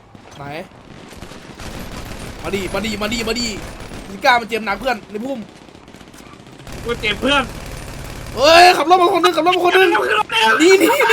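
Gunfire from GTA V Roleplay rattles in rapid bursts and scattered shots while players talk excitedly over it, the firing close and sharp between the voices.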